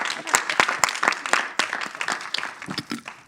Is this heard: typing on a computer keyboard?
no